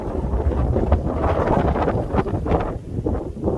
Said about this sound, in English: we got some wind going on